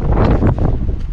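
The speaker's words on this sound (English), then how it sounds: "It's extremely windy out here." Strong wind batters the microphone on a snowy winter homestead, a loud rumbling roar with gusty surges through the brief moment and no talk.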